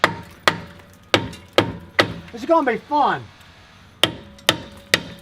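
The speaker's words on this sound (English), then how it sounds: "When we get the old hammer, man, it's on there." Sharp metal hammer strikes on a rusted-on car part land one after another at an uneven pace, loud and close, with a brief spoken remark in the middle.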